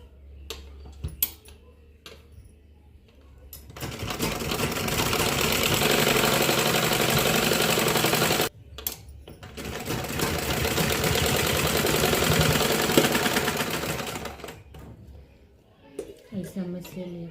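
Sewing machine stitching an embroidered blouse runs in two long steady bursts of several seconds each, with a short pause between them, close and fairly loud, and a few clicks before and after.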